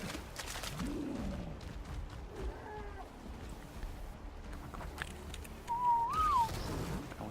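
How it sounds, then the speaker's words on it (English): A player character in ARK: Survival Evolved whistles a passive command to tamed creatures, a rising then falling whistle near the end, over dense game ambience with low animal-like calls and rumbling. "Whistle passive."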